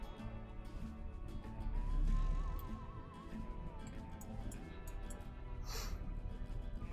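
A horse whinnies in the Depraved Wild West city-building game, one clear, wavering neigh near the start over steady game ambience and background bustle, with a fainter second call toward the end.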